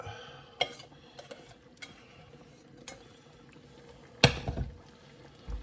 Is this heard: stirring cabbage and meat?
yes